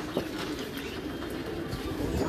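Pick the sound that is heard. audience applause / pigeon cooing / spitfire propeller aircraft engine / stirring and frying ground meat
pigeon cooing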